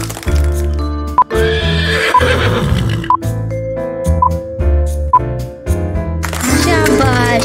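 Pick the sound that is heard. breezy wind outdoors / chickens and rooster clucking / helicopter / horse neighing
horse neighing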